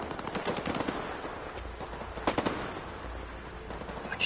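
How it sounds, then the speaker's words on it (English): Rapid bursts of automatic gunfire echo across open ground in the video game S.T.A.L.K.E.R. 2, with several clustered volleys at moderate distance and no speech. "What you shooting at, buddies?"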